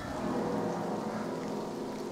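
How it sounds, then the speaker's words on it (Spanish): Rain falls steadily in the horror video game Bunker 16, an even hiss of drops with a faint low rumble beneath, continuous and unbroken. "Ojo, se escucha la lluvia."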